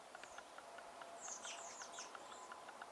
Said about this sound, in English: So, lots of birds.